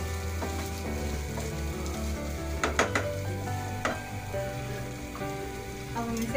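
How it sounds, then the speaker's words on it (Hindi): Tomatoes, spices and chopped green chilies for beef keema sizzle steadily in a pan while being stirred, with sharp scraping strokes and spatters close by over a constant frying hiss. "अच्छी तरह मिक्स करके"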